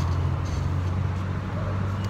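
A city bus rolls down the street, its steady low engine drone and road rumble continuous and close throughout with no breaks.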